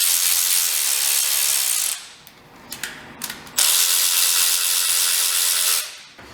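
A ratchet torques down intake manifold bolts on a Ford SVT Contour, sounding as rapid close-up clicking bursts. A pause with a few scattered metallic taps separates the two runs of clicking.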